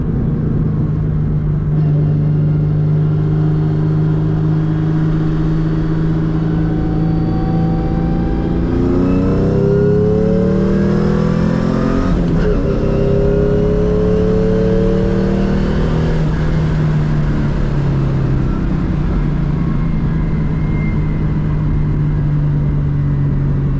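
A modified V6 Ford Mustang engine drones steadily, then revs up and down in rising and falling sweeps before settling back to a loud, even hum.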